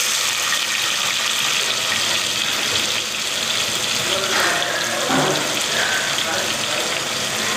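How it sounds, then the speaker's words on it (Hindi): Two large onions sizzling as they fry in a pan in a company kitchen in Dubai, a steady, loud hiss that runs continuously without pause. "तकरीबन 1 मिनट हो गए हैं प्याज को भूनते हुए।"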